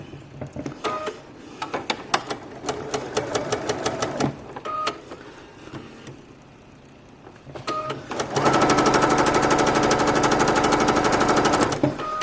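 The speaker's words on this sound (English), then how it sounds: "now we're going to sew our 2 sets of 8 together" A sewing machine joins two sets of table runner pieces, with short stop-start bursts of stitching and handling clicks first, then a long, loud, continuous run of fast needle chatter near the end.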